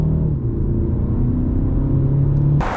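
A 2023 BMW 228i Gran Coupe accelerating, its engine giving a steady, loud, close droning rumble that climbs slightly in pitch before cutting off abruptly.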